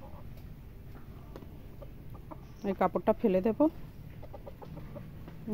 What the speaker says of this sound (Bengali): মুরগি দুটোর অবস্থা দেখেন কেমন ছটপট করছে